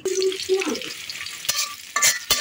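Hot tempering poured into a jackfruit curry (young jackfruit) sizzles loudly, with bursts of crackling frying and a few sharp clatters of utensils against the pot.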